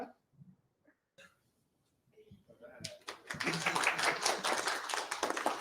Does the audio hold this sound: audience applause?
yes